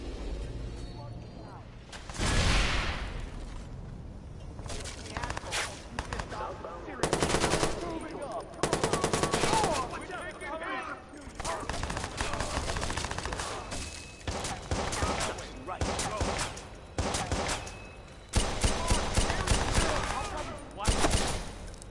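Gunfire in the video game Watch Dogs, with bursts of automatic shots and scattered single reports coming and going over about twenty seconds, loud and mixed with game noise and occasional voices.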